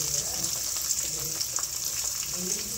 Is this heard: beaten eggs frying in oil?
yes